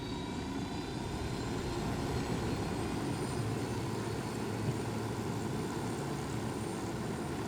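A helicopter in the video game Ghost Recon Wildlands produces a steady, loud rotor and engine roar that holds constant with no speech over it.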